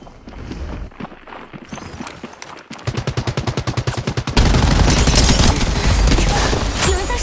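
Gunfire in the video game Apex Legends: sparse shots at first, then a steady rapid automatic burst, building into a dense, loud barrage of overlapping fire near the end.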